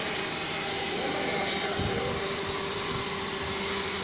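A Super Kleen 75PWH oil purifier runs steadily, its motor pumping oil with a continuous hum and whir, fairly loud and unbroken throughout.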